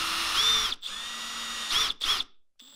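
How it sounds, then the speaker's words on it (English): A power drill with a Forstner bit bores shallow holes into wood, whining steadily with brief stops and short bursts near the end. The sound is close and fairly loud. "I'll drill some shallow holes for the rods using a Forstner bit to get a clean hole"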